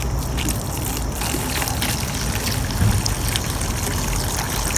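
Gasoline pours from a lawnmower gas tank into a container, a steady close trickle and gush of liquid running continuously throughout.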